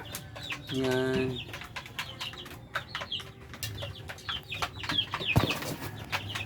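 Chickens cluck repeatedly in a yard, with a few louder squawks and someone speaking a word briefly over them.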